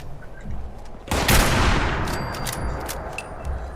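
A burst of pistol gunfire in the Fallout 76 video game erupts after a quiet second, a sharp loud blast followed by a long rumbling tail with faint game effects and scattered clicks; no speech.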